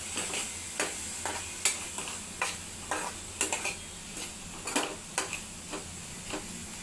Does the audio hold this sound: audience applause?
no